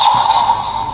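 A Kamen Rider DX Knight Invoker toy in launcher mode gives off a loud electronic effect, a steady buzzing, whooshing tone held for about a second.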